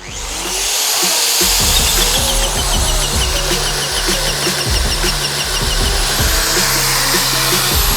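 A TKF 1500 welding beveler on a tower station machines a 15 mm bevel in one pass, giving a loud, steady motor whine with grinding cutter chatter throughout, close and continuous with no talking.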